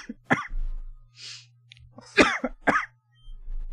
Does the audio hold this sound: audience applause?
no